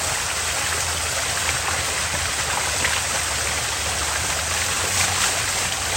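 Erin Ijesa waterfall in Nigeria, a loud continuous roar and hiss of falling water filling the whole scene, steady and unbroken throughout.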